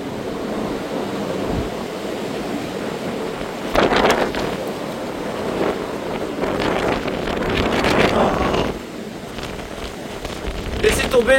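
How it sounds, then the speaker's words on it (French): Storm Floriane's strong gusts roar steadily through trees, swelling in several louder surges against a constant buffeting rush close to the microphone. "La force des rafales, le bruit que ça fait dans les arbres."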